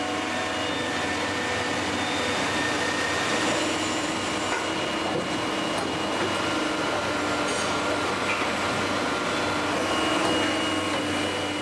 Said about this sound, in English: raw material that's drawn into the moulding machine by vacuum